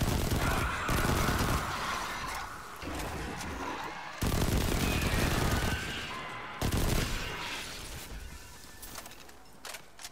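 Gunfire from a charging weapon in Destiny 2 erupts in loud, dense bursts separated by short pauses. The volleys repeat several times, and occasional game noise sits underneath.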